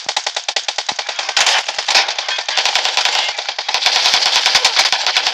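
Rapid automatic gunfire from the mobile battle royale game PUBG New State, dense rattling bursts that run almost continuously and loudly, with overlapping shots and no talk.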